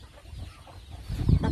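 A hen clucks softly at her nest beside newly hatched chicks on a provincial farm, faint at first and then louder, with a few close, low clucks near the end.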